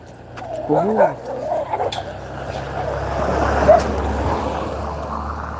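A dog gives a few short barks early on, with a voice nearby, then a steady low rumble of background noise.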